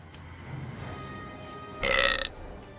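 A loud, gurgling burp from the hellhole in the video game Dungeons 3, lasting about half a second over a low game background hum.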